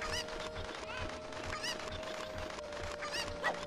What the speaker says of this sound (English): And then we just throw this chicken, pick up this chicken, and hit the wall